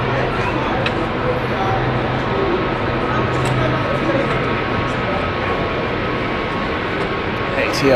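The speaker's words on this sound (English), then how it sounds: "ATR heading out." An ATR turboprop at Hamburg Airport gives a steady, broad engine roar as it heads out, heard from a distance with faint crowd chatter and speech underneath.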